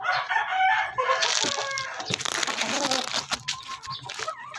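A rooster crows loudly and close by, its drawn-out call followed by clucking and scattered rustling noises.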